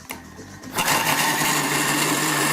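An electric meat grinder mincing raw meat for tartare starts up and runs loud and steady, a continuous whirring drone close by with no talk over it.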